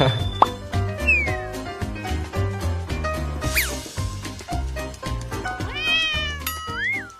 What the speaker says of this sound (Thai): แมวมาหาเนาะ